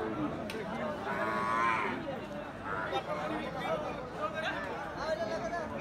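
At a busy livestock market, Sahiwal cattle let out a drawn-out moo followed by a shorter one, heard amid background chatter and crowd babble.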